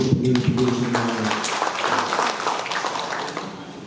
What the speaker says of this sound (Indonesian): Tepuk tangan dulu untuk beliau semuanya.